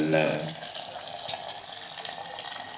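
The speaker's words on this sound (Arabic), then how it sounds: "نحط مية سخنة كده من الكتل" Hot water pours from a kettle onto fava beans being prepared as ful medames, a steady close splashing stream that is loudest at first and then settles into a softer gurgle.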